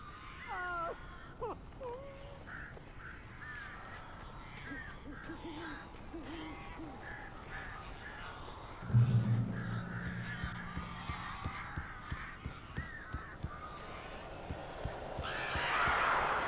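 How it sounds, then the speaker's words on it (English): Birds caw and hoot in the Alan Wake video game, with owl-like hoots and crow caws repeating near and clear early on, then a low thud and a run of tapping and fluttering sounds. "These birds are weird."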